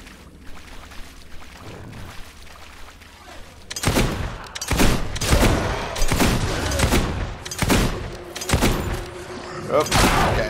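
Rapid gunfire from a shooter fighting in the Wraithmarsh area of the video game Fable II, with repeated loud bursts after a quieter opening and occasional speech mixed in.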